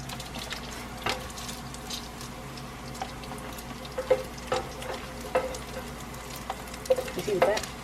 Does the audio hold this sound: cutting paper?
no